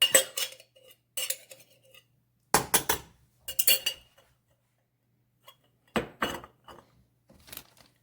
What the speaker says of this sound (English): Stir this up, bring it back up to a boil, then reduce heat to simmer.